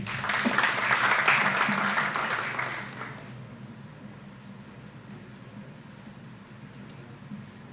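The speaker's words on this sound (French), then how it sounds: "Sous vos applaudissements, s'il vous plaît." Audience applause at an official launch ceremony for a women's leadership and peace project: a dense burst of clapping for about three seconds that quickly fades into quiet room tone.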